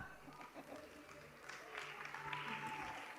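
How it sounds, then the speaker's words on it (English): Audience applause at a conference awards ceremony, broad clapping noise rising in the second half as a guest comes up, with background crowd murmur. "Please welcome her with a clap."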